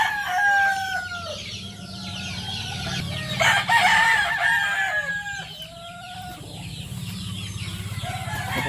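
Gamefowl roosters crow repeatedly in a yard, loud near crows overlapping with more distant ones, with clucking hens throughout.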